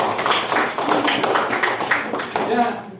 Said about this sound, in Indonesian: Kasih tepuk tangan dong untuk kelompok kalian.